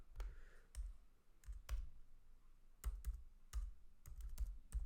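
Computer keyboard typing of Python code, a sparse run of crisp individual key clicks in short bursts with pauses, close and quiet, no talk.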